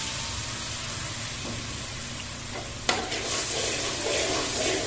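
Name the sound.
milk poured into browned semolina and ghee, sizzling and stirred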